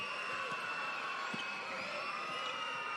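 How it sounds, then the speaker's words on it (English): A basketball crowd at a women's professional game between Adelaide Lightning and Southside Flyers, a distant steady roar of cheering and murmur filling the arena, with faint ball bounces and a commentator's voice underneath. "The crowd starting to get involved as well."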